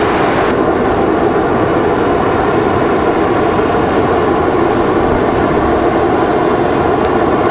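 An Aeromexico airliner departs for Mexico City, a loud, steady, broadband jet roar filling the whole stretch without letup, with no voices.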